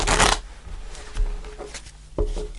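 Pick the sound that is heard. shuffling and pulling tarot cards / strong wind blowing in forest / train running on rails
shuffling and pulling tarot cards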